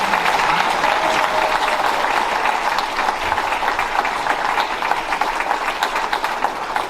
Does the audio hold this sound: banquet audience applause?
yes